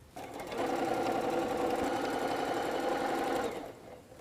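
A sewing machine stitching quilted table runner pieces runs in one steady, close burst of a few seconds, ramping up, humming evenly, then winding down, with no talking over it.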